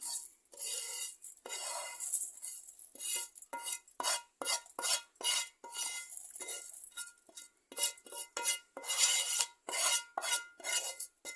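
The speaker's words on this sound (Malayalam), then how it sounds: "ഇനി ഈ ഫ്രൈ ചെയ്ത് വെച്ചേക്കുന്നത് നമുക്കൊരു ഒരു ബൗളിലേക്ക് ഇട്ട് കൊടുക്കാം" A metal spoon scrapes and clinks against a pan and bowl while fried shallots for a small-onion chutney are scooped out, a quick series of close, bright scraping strokes with short pauses and no speech.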